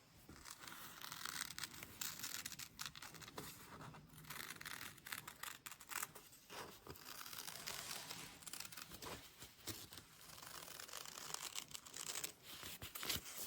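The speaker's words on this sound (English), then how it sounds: "we're just gonna use our scissors and do a nice clean cut right along those lines." Scissors cut cleanly along marked lines in fabric quilt pieces, giving a run of crisp snipping and rustling strokes, close and fairly faint, with short pauses between cuts and no talk.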